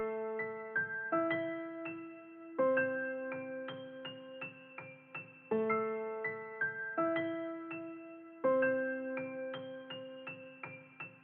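Sad piano loop in FL Studio 20 with thickened, duplicated root notes under a melody: layered chords change every few seconds while quick melodic notes tumble over them, steady and close, no talking.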